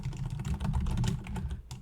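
Rapid typing on a computer keyboard: a dense, continuous patter of close key clicks with a thumpy low rumble, steady throughout with no talk.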